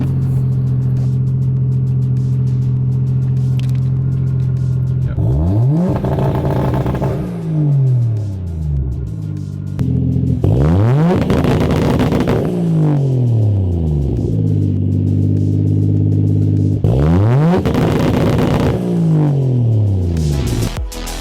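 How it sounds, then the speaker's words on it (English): A Toyota Chaser JZX100's turbocharged 1JZ-GTE six-cylinder engine revs hard three times, rising in pitch and falling back to a throaty idle between each loud rev. "The Toyota 6-cylinder engine definitely is putting down an orchestra of engine performance and turbo noises."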